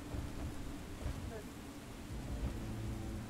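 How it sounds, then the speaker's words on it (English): Rain and rumbling thunder in the video game Deep Rock Galactic form a continuous faint low wash of rain with muffled thunder rolls. "Oh, it's raining."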